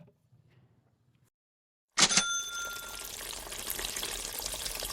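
After near silence, water suddenly gushes into a 20 litre can at a coin-operated village RO water plant, settling into a steady, loud rushing fill.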